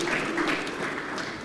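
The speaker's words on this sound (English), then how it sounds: "Round of applause for the representative of the minister." Brief, steady patter of audience applause for the minister's representative at a Nigerian conference on financing women-led businesses. The clapping is diffuse and moderately distant, with no voices over it.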